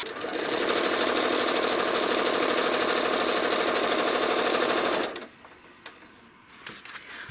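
A sewing machine runs steadily at high speed for about five seconds, a fast even mechanical rattle, then stops, leaving faint clicks and handling sounds.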